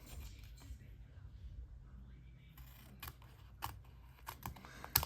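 Scissors trimming paper strips during a craft session, a series of short sharp snips and crisp cuts that grow louder and denser toward the end, close up, over a quiet room background with no talk.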